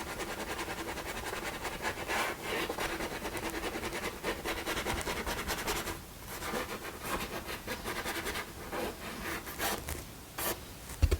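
A paint brush scrubs gently across a painting in a continuous soft, close scratchy rubbing with a few brief pauses.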